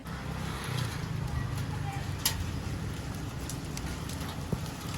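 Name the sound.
heavy rain with hail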